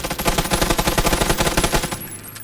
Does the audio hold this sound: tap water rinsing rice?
no